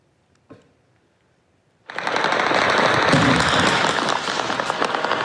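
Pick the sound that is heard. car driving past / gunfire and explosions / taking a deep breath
gunfire and explosions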